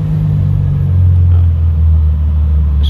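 A ten-year-old Bentley Continental GT Speed V12 engine rumbling in a deep, steady low drone, loud and close, with a slight swell in pitch partway through and no talking.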